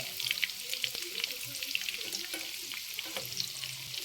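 Fish cutlets fry in a pan with a steady, fairly soft sizzle and crackle that continues unbroken and without voices.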